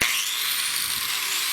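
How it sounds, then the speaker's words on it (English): An angle grinder fitted with an aggressive flap wheel disc shaping a wooden gun-stock war club, giving a continuous loud, high-pitched grinding whir throughout. "I broke out my angle grinder with an aggressive flap wheel disc."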